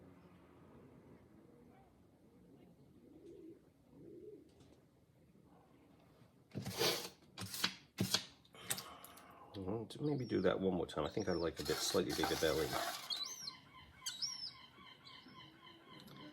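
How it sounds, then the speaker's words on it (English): Young seagulls call with thin, high chirps and cries, loud in places and fading in and out, while a person speaks nearby. "The baby seagulls are out, if you can hear that."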